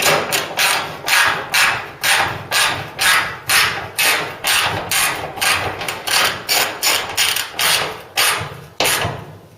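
Power driver sinking tech screws through a magnetic bit holder during a Ford Cortina Mk3 restoration, a fast steady series of about twenty loud close ratcheting bursts, each swelling and cutting off.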